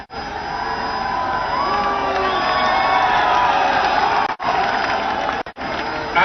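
A large crowd cheers and whoops at an outdoor political rally in hot sun, loud sustained roaring with shouts rising over it and brief dropouts near the end.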